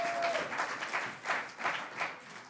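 A church congregation claps together in a fairly faint, sustained round of applause with gently pulsing swells.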